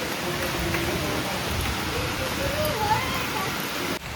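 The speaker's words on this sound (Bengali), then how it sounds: "এখন বৃষ্টি এসছে" Steady rain falls outdoors in a continuous even hiss of drops on surfaces, heard alone at a moderate level throughout.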